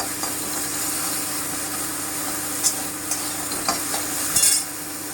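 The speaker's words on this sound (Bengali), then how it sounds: "এই যে ঢ্যাঁড়সগুলো আমার ভাজা হয়ে গেল" Okra frying in a kadai, a steady low sizzle with a few sharp scrapes and clinks of a spatula stirring near the end, no voices.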